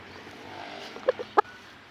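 Chickens clucking on a Thai poultry farm raising broiler chicks for 21 days, a few short clucks and calls standing out near the end over a low, steady background hum.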